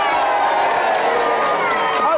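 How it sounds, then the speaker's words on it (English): Studio audience at a televised video-game show cheering and clapping, a dense continuous roar of crowd noise that stays loud and steady throughout. "Give them a big round of applause."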